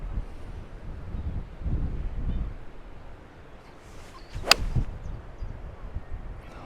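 Strong gusty wind buffeting the microphone on an open golf course during a windstorm, a steady low rumble with louder gusts and a brief sharp whoosh midway, no talking.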